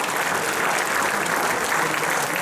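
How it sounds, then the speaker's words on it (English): An audience at a Clovis high school football hall of fame induction ceremony applauds steadily, a dense, even wash of clapping with no talking over it. "Give Jim a round of applause."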